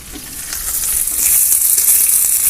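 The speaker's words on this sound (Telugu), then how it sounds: "కడాయిలో ఆయిల్ వేసా ఆయిల్ వేడితే ఉంది ఇవి వేసేసుకొని" Veld grape stems and leaves are frying in hot oil in a kadai, giving a loud, continuous crackling sizzle that grows slightly stronger, with no talking.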